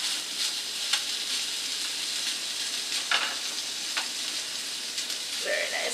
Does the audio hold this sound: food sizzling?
yes